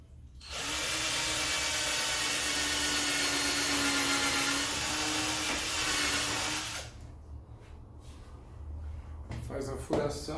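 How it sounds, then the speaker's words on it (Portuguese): Steady whine of a drill with a countersink bit boring and countersinking a hole in MDF furniture panels, running about six seconds, then stopping and followed by faint handling clatter. "uma ferramenta que ela faz o furo e faz o escariado, para deixar o parafuso embutido"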